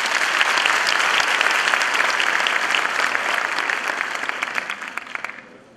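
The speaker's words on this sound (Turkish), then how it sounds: "Hakikaten onlar için bir alkış rica ederim." A seminar audience gives a team a sustained round of loud, dense applause that fills the room, then fades out toward the end with a few scattered claps.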